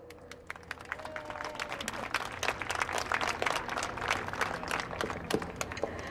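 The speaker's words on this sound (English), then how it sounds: "Please give a round of applause for their seniors" Crowd clapping for senior players at a women's lacrosse game, a spread-out patter of many hands with sharp individual claps standing out, moderately faint and heard from a distance.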